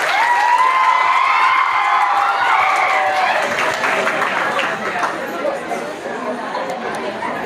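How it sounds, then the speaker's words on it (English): A school farewell-party crowd applauds the headmaster of Holy Cross High School as she comes to the dais, with loud cheering and high-pitched shouts at first, then chatter and clapping that gradually fade. "Big round of applause for the headmaster Jyoti madam."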